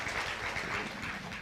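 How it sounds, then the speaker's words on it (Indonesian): A church congregation applauding during a worship service, a dense, sustained burst of clapping from many hands that fills the space loudly and evenly, with no pauses. "Coba kalau antusias kita tepuk tangan yang meriah bagi Allah kita."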